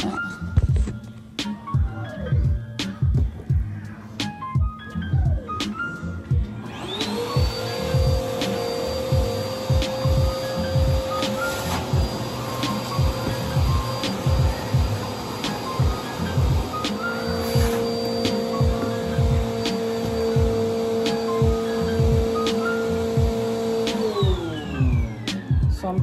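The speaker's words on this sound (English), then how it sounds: "I gotta vacuum this because I am not" A vacuum cleaner runs steadily in a room with a loud, constant whine and motor drone for most of the stretch, starting abruptly after some earlier clatter and thumps and shutting off near the end.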